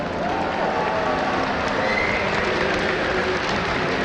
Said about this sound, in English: Give a big round of applause to Jaedong of Team Evil Geniuses.